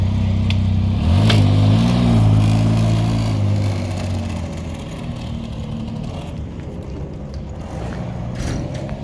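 A Can-Am Ryker three-wheel motorcycle pulls away after brake service, its engine rising loudly in a low revving surge, then settling into a steady rumble that fades as it moves off.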